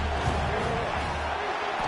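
Steady stadium crowd roar in an NCAA 26 college football video game just before a field goal kick, a dense, continuous wash of distant voices filling the background at an even level.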